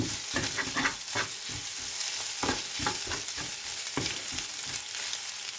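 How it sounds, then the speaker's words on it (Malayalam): Egg is stirred into a spice paste in a hot frying pan for a methi leaf thoran, with a steady sizzle broken by repeated scraping strokes of the spoon, close and moderately loud. "മുട്ടയും കൂടെ ചേർത്ത് പിന്നെ ഈ അരപ്പിനകത്തിട്ടൊന്ന് ഇളക്കിയെടുക്കാം"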